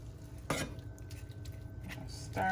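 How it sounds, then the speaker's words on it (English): Taco seasoning and hot water stirred in a pan for organic chicken tacos: a sharp utensil clack against the pan, then steady scraping and faint sizzling at close range, with another clink at the end. "Stir it up."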